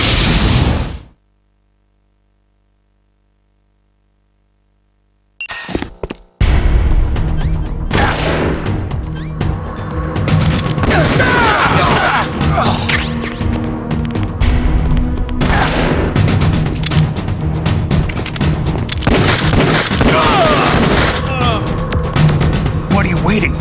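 Gunfire from the video game Metal Gear Solid: The Twin Snakes erupts after a few seconds of near silence. It becomes a loud, sustained barrage of rapid shots and bursts mixed with dense game noise until the end.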